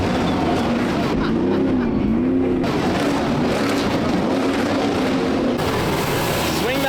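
Racing trucks roar past at the Long Beach Grand Prix street circuit, a loud, continuous engine drone with rising and falling pitch sweeps as vehicles pass close, over crowd noise and voices.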